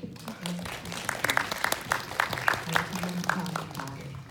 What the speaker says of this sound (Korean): 우리 관객분들께 박수 한번 쳐드려야 될 것 같아요